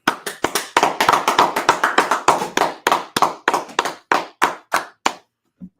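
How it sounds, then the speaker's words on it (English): A group claps hands in unison at the start of a religious school class, a long run of sharp, loud, steady claps that thin out and slow near the end, then stop, with no talk over them. "Clap it up."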